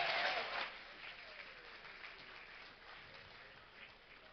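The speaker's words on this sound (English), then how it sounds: "Big round of applause for Matt Cam and Jahar for the awesome job they're doing on the shoutcasting over there." Applause from the audience at a Brink game tournament finals at QuakeCon 2011 starts moderately loud, then fades into a faint, thinning patter with scattered claps.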